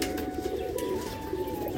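Pigeons coo in a loft holding pairs of black-tailed and red-tailed birds, a soft low murmur running steadily and fairly close, with a faint thin tone above and no voices.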